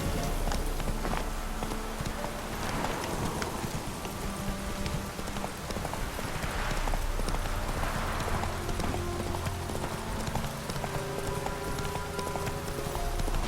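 Roach, the horse in the video game The Witcher 3, galloping with rapid steady clip-clop hoofbeats under continuous ambient noise and a faint music bed.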